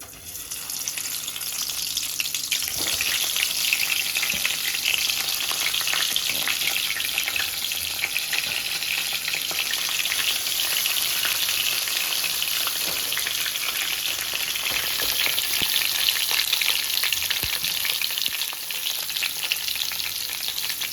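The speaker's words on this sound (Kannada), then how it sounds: "ಇವಾಗ ಎಣ್ಣೆ ಕಾದಿದೆ. ಸೊ ಇವಾಗ ಅದಕ್ಕೆ ಒಂದೊಂದೇ ಬದನೆಕಾಯಿ ಹಾಕೋಣ." Whole eggplants sizzle steadily in hot oil for a Kannada-style ennegai curry, a dense, loud, even frying hiss that runs unbroken throughout, close up and alone, with no voices.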